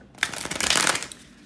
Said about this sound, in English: bear with me a couple of seconds, guys, to shuffle the tarot cards